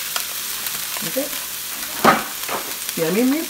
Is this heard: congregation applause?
no